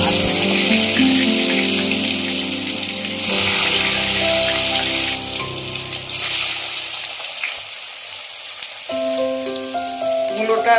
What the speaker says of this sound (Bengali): আলু ভাজা হয়ে গেছে এগুলো সব ভেজে নিতে হবে